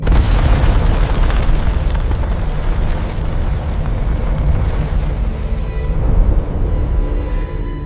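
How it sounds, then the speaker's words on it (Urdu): A terrible explosion bursts above a palace, a loud sustained boom with dense rumbling that fills the whole stretch and slowly settles, no voices over it. "کچھ لمحوں بعد محل کے اوپر سے ایک خوفناک دھماکہ ہوا۔"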